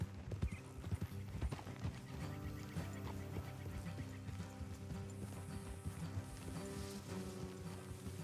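Steady clip-clop of horse hooves at a trotting rhythm, with creaking tack and clanking mechanical sounds over a continuous game soundtrack.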